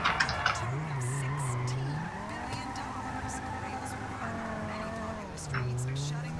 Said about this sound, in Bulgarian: Тя върти гуми.